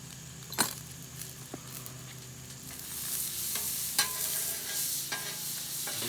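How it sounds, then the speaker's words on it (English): Butter melts and sizzles on a Blackstone flat-top griddle ahead of NY strip steaks, giving a steady soft frying hiss with a few sharp clicks and clatters and a brighter burst of sizzle partway through, with no talking. "And I'm gonna put some butter down."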